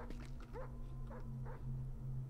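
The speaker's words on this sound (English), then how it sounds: "I hear a dog." Dog barking in the horror video game Wick, a few short whimpering yips and barks heard at a distance over a steady low ambient drone.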